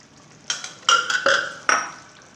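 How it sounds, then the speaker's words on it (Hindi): Garlic water poured into a chicken karahi, then stirred: a few sharp clanks of a spoon against the metal pan with splashing pours in between, close and moderately loud, with no talking. "ये लहसुन का पानी जो मेरे पास बचा हुआ है, जो भी इसी के अंदर जाएगा, ये डाल देंगे"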